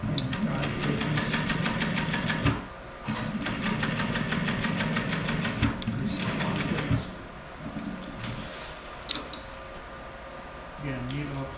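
A Techsew 1660 industrial sewing machine runs in steady bursts, its rapid needle rhythm pausing briefly as the stitch is reversed to lock it, close and fairly loud with a low motor hum and some talk.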